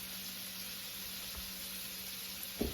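Shrimps and scallops searing in a pan give off a soft, steady, even hiss with no break, quiet and continuous throughout, with no voices.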